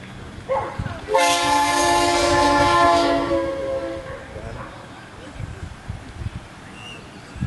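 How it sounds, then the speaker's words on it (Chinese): An AI-generated train sound is spliced into the middle of an audio clip. A loud, sustained train horn blast lasts about two seconds over rumbling rail noise, with quieter ambient sounds before and after. "把中间的这段声音换成火车的声音"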